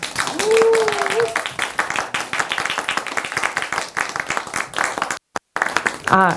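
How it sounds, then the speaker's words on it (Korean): Audience applause at a Democratic Party youth talk concert for a lawmaker, with dense clapping and voices mixed in, a brief cut near the end, then speech. "많은 박수 부탁드립니다."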